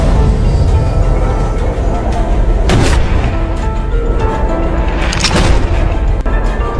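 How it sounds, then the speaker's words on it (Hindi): Two loud booming gunshots in a dramatized thriller story, sharp blasts a few seconds apart over a dense background score, with a narrator's voice also present. "इस नाजुक पल में लड़की ने गोली चलाने का फैसला किया।"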